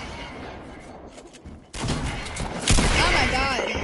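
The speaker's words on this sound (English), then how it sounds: "You hear the grenades?" Grenades explode in a Fortnite match, a sudden loud burst followed by a second heavy blast with crackling debris, preceded by quieter game ambience.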